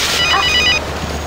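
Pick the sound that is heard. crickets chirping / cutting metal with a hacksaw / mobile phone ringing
mobile phone ringing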